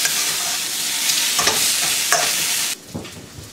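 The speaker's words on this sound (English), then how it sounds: "There you have it, biang biang noodles, stir fry." Hand-pulled biang biang noodles stir-fry in a hot wok with a dense, loud sizzle and a few scraping stirs, the frying dropping off near the end.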